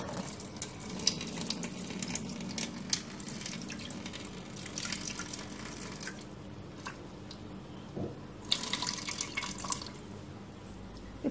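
Water runs and drips during kitchen washing and draining for an instant junnu sweet, with irregular splashes, squishy handling and louder bursts of flow, close and without talk.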